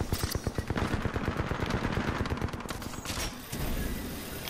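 Rapid automatic gunfire in the shooter game Titanfall 2 during a pilots versus pilots match, a loud, steady rattle of close shots for several seconds, easing slightly toward the end with continuing bursts.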